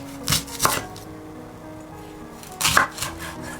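A knife cuts a snow pear into wedges on a board with two quick pairs of crisp, close chops separated by a short pause.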